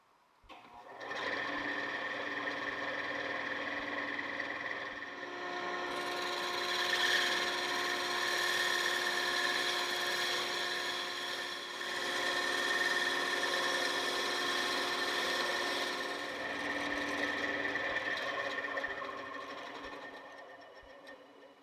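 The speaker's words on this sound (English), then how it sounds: "while the bandsaw is powered on, give full attention to your work" A bandsaw runs steadily with a constant motor whine and blade hum, holding loud and even for about twenty seconds with slight swells as it cuts, then tapering at the end.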